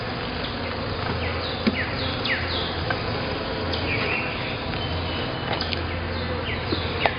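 Honey bees buzzing around an open beehive during a hive inspection, a dense steady hum with individual bees whizzing past the microphone, faint bird calls in the background and no talk.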